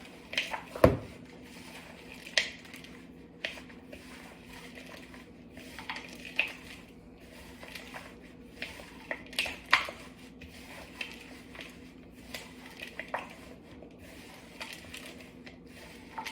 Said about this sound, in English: Just mixing it around a little bit, making sure I have everything incorporated.